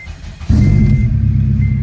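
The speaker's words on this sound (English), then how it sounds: "I got to start my car." A car engine cranks and catches at once, settling into a loud, steady rumble up close.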